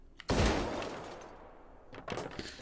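High-explosive rounds fired in Hot Dogs, Horseshoes & Hand Grenades: a sharp, loud blast with a booming low rumble that decays slowly, followed by a second, weaker burst near the end.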